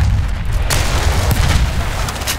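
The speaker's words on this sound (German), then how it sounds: "Ich werfe eine Granate!" A grenade explodes in the video game Battlefield 1, a loud booming blast with deep rumble amid ongoing battlefield gunfire and further distant bangs.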